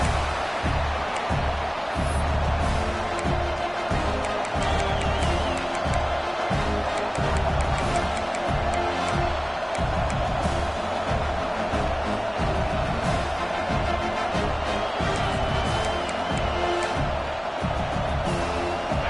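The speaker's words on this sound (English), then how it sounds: "This crowd ready to make its presence known." Football stadium crowd cheering, a dense, loud and continuous roar with rhythmic stomping or clapping pulses running through it throughout.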